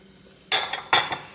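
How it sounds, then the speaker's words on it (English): Frozen mixed vegetables tumble into a chicken pot pie filling in two quick rattling bursts, close and crisp, like hard icy pieces clattering against a pot or spoon. "And then I have the frozen mixed vegetables. I'm adding those in."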